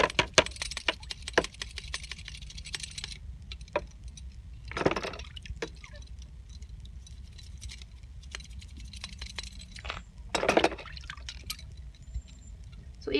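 Bridle leather scrubbed and scraped with a toothbrush and water, giving soft wet patters, drips and squishy brushing strokes with a couple of louder scrubbing bursts, close and fairly quiet, with no talking.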